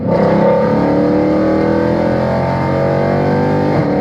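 Loud, sustained engine roar of a Stage 3 supercharged W204 Mercedes C63 AMG, 545 horsepower, accelerating hard in third gear, with a strong supercharger whine rising steadily throughout.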